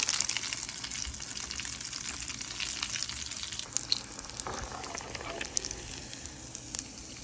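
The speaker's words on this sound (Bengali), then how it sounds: "সবগুলো এভাবে ভেজে নিতে হবে।" Egg and potato chops frying in hot oil give off a steady, soft sizzle with light crackles and pops that continue throughout, moderately close and without talk.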